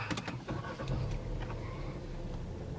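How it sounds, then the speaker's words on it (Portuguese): A 2018 VW Golf Variant Highline starts up. A few sharp clicks come first, then the engine settles into a low, quiet, steady hum. "Vamos ligar o carro aqui"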